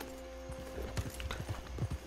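A horse in the video game Red Dead Online trots up with a short run of light, rhythmic clip-clop hoofbeats, fairly faint over a quiet game ambience, with no talk.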